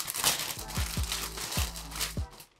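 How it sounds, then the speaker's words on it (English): Plastic bags holding golf clothing crinkle and rustle close by in several quick, crisp bursts, fairly soft overall. "You probably can't hear me over all of the rustling of the bags, can you?"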